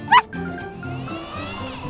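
A single sharp yip from a small cartoon puppy, near and brief, followed by a low steady background hum.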